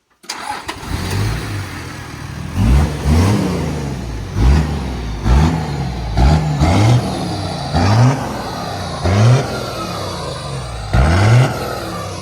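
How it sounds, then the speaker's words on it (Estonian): A tractor engine revs in repeated bursts about every one to two seconds, each surge rising in pitch and then falling back. The sound is loud and close, with nobody talking over it. "Traktor!"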